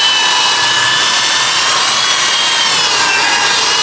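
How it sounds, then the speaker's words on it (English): Loud, continuous abrasive whirring and scrubbing, a close old power drill with a brush wheel scrubbing steadily on a pickup truck without pause and no voices. "hit it with this old drill and a brush wheel"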